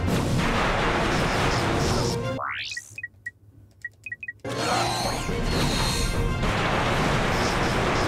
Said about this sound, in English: Trusty handy dandy lava gun.